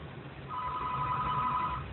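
A telephone bell rings in one continuous, loud trill, starting after a brief quiet moment and sounding alone, with no voices over it.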